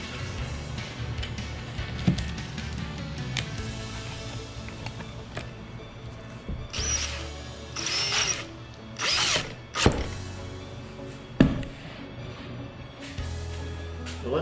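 Power sander working reclaimed hardwood for a shop bench, a steady motor whine with the pitch surging in several louder bursts as the tool presses and lifts off the wood.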